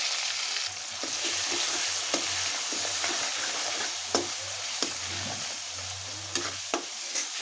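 Spices going into a fully browned onion paste for spicy chicken curry, frying with a continuous sizzling hiss, intermittent clacks of a spoon stirring against the pan, and a low hum behind, near and with no talking.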